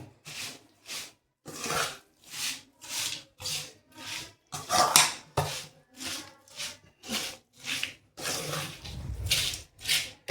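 Suva pak ingredients are mixed by hand in a bowl, making about a dozen rhythmic rubbing, scraping strokes with brief pauses between them.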